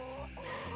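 Chickens cluck continuously during a summer heatwave, a steady close chorus of overlapping fowl calls with no talking.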